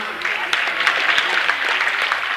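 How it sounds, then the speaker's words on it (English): A crowd gives a round of applause at a basketball broadcast, with a moderate burst of handclaps heard alone and fairly close. "how about a round of applause for Dick and John?"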